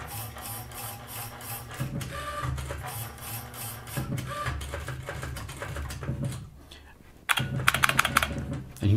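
An IBM 6780 Quietwriter printer prints a document, giving a rapid, close mechanical chatter of repeated strikes and carriage movements. A short lull comes near the end, then a sharp burst of printing, with faint talk in the background.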